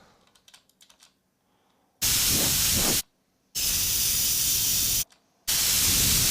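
Compressed air computer duster spraying in three loud hissing bursts of about a second each, separated by short gaps, after a few soft clicks and taps at the start.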